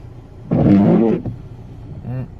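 Worn wipers on a 16-year-old Audi A4 Sport Avant TDI drag across the windscreen with a short, loud juddering groan, followed by a fainter second squeak.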